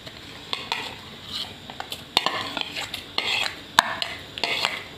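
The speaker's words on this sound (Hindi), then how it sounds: "और इसमें हम अब ऐड करेंगे चावल।" A spoon scrapes and clinks against a pot in an irregular stirring rhythm as soaked rice is added to boiled milk for kheer, close up, with soft wet shuffling and no talking.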